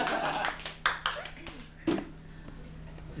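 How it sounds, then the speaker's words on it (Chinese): Applause breaks out in sharp bursts during band member introductions at a student music event, loud clapping from a small group mixed with chatter and voices talking over it. "鼓掌。"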